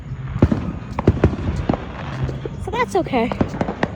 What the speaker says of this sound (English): I record the fireworks every year.